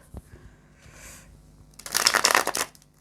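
A close, crisp riffle of tarot cards being shuffled in one quick burst, preceded by a few faint handling sounds and soft rustles.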